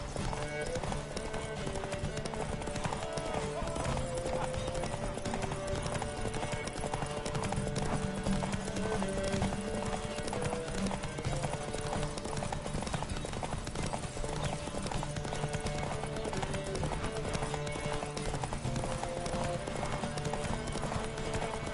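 Steady clip-clop of Roach the horse galloping in The Witcher 3: Wild Hunt, rapid rhythmic hoofbeats running throughout, with an occasional whinny and game music and voices layered on top.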